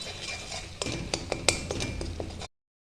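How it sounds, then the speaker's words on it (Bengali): Cashew and poppy seed paste with dry chillies, salt and turmeric being stirred in a pan, a spoon scraping and clinking against the metal in quick irregular strokes, close and fairly quiet, with no talk. "আমি ভালো করে কষিয়ে নেব।"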